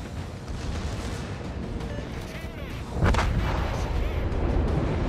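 A naval artillery broadside salvo in World of Warships, from the battleship North Carolina: a continuous rumble of heavy gunfire, then a loud booming burst about midway that keeps rolling, with no talk.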